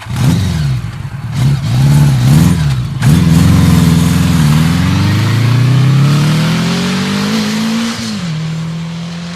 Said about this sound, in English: sitting on the back of a motorbike speeding to the local TV station